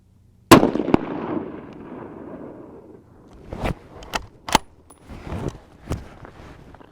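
Rifle shots at an outdoor shooting range: one sharp, loud crack with a rolling echo, then after a pause several more shorter bangs and impacts spread unevenly over the remaining seconds.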